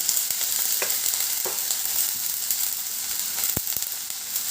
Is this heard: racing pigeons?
no